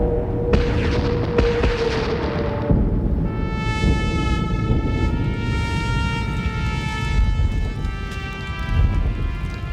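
Army big guns firing in an audio drama battle scene, heavy rumbling booms and low roar filling the scene continuously, with a rising high tonal whine layered over it partway through.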